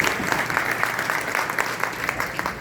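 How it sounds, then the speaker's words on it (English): Audience applause for the volunteers helping at a community event, a steady wash of many hands clapping with scattered sharper claps, fairly close and continuous throughout. "please give a huge round of applause to all our volunteers that are here today"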